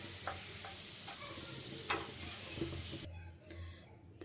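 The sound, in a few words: onions frying brown in oil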